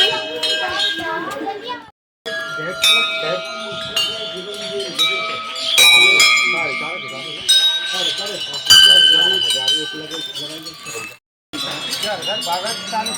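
Temple bells hung by worshippers ring out repeatedly in bright, metallic strikes and sustained tones, clanging in irregular bursts amid continuous chatter and children's voices nearby.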